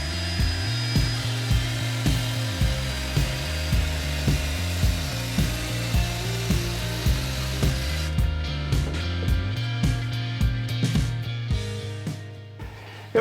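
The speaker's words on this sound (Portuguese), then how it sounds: "tenho certeza que a serra vai passar exatamente aqui na quina da madeira, fazendo o ângulo de 45 graus" A hand saw cuts a 45-degree miter at the corner of a wooden board, with steady rhythmic strokes, each a rasping push-pull, close and loud, running without pause and slowing near the end.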